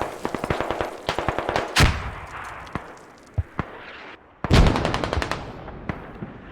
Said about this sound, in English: here come the mortars in